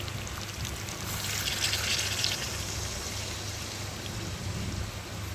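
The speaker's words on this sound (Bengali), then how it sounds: "চলো আমি এখন জল দিয়ে দেবো চিকেনে" Hot water poured into chicken cooking in a pan, a steady close gush and splash running unbroken for several seconds with a faint low hum underneath.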